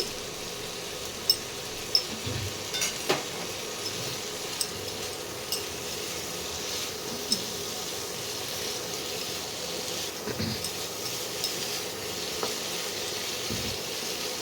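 Boiled, cut potatoes and chicken stock stirred into masala for chicken tarka, with a continuous close sizzle, occasional spatula clicks and knocks against the pan, and no talking.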